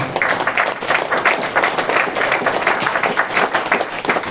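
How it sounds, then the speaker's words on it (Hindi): Audience applause at a talk, loud and close, a dense rhythmic patter of many hands clapping continuously without speech. "तालियां।"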